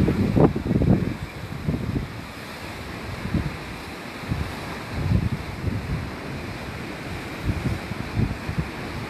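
Sea waves at Polignano a Mare wash in with irregular soft surges over steady wind noise buffeting the microphone, moderately loud and close.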